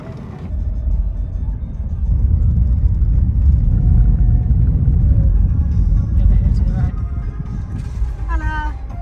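Car driving over a very bumpy desert road, a deep continuous rumble and rattle from inside the cabin that swells and eases, with a person talking and a few brief clicks near the end.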